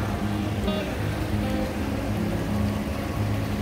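Water rushing steadily from a hidden waterfall by a secluded lake, a continuous broadband wash heard close and loud throughout without talk.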